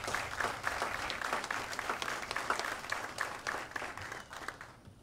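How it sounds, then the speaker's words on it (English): Steady applause from a gathered audience at a military medical battalion change of command ceremony, dense overlapping claps holding for the full stretch and tapering slightly at the end. "let's give them a round of applause over there."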